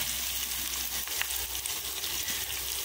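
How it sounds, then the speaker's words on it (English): Curry leaves sizzle and crackle in hot oil, a steady hiss with scattered small pops, close by and with no voices. "let these sizzle and pop in the oil"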